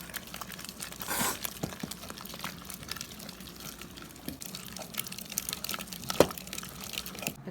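Cooked Indian spinach is mashed for keerai kadayal, giving soft, wet squelching and crinkling strokes, close and faint, with no talk.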